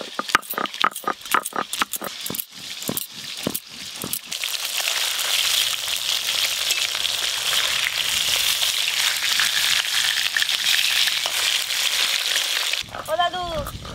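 Garlic frying in a pan: a series of sharp taps and clicks gives way to a loud, steady sizzle that holds for several seconds, then ends with a few bright clinks.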